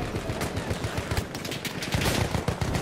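Rapid gunfire in Battlefield 1 Conquest on the Suez map, likely the Benét Mercié machine gun, rattles out in dense, continuous bursts at close range with no speech over it.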